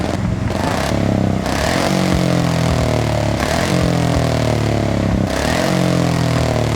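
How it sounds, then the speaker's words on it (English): A car engine in the racing game Forza Horizon 6 revs hard and loud, repeatedly climbing and dropping in pitch in several sweeping bursts, with no talking over it. "let's give it a few revs"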